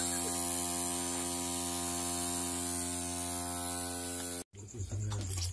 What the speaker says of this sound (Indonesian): Nih yang berisik itu kipas angin Mang Mul